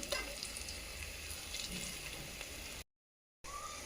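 Tomato with ginger-garlic paste frying in a pan gives a steady, close, loud sizzle with a constant hissing texture; it cuts out briefly near the end, then resumes.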